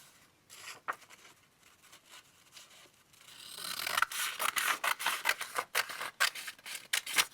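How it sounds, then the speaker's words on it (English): Scissors snip through a card tag, quiet crisp cuts at first, then a denser run of rapid snips and rustling paper, close and soft. "So let's dive in here and cut it out."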